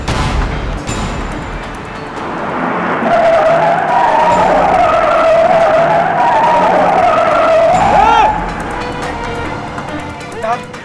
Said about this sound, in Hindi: अबे मंदा, यू टर्न ले जल्दी।